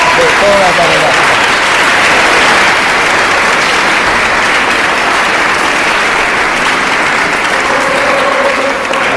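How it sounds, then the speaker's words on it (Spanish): A large congregation applauds steadily and loudly at a tribute concert in Corrientes, a dense continuous wash of clapping that holds evenly from start to finish with faint voices mixed in. "a don Carmelo el aplauso enorme de toda la congregación"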